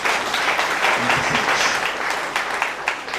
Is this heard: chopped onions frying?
no